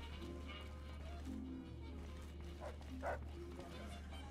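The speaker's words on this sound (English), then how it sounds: "Why is there dogs?" Dogs barking in a Bethesda wasteland video game, a few scattered yips and barks at moderate distance over a steady low hum and game ambience.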